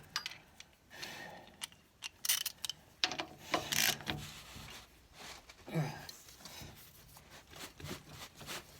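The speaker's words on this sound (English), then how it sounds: "I'm unbolting bolts on the left side of the transmission." Tools working on transmission bolts of a Toro 265-6 lawn tractor, heard from underneath the machine: scattered ratcheting clicks and metallic clanks in irregular bursts, fairly close, with some low talk mixed in.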